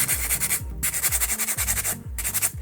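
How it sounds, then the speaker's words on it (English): Sanding blocks rub back and forth over a model T-Rex in steady, rapid strokes, producing a continuous close scratching hiss with a rhythmic pulse and two brief pauses. "Sanding blocks, man, get onto it. Nice and smooth now."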